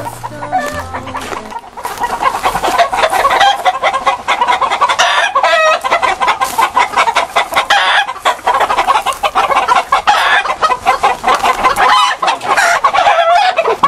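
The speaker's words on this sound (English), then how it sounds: "We're close to the rooster." Rooster heard up close, clucking rapidly and then crowing loudly in repeated bursts, the calls dense and continuous over several seconds with no speech.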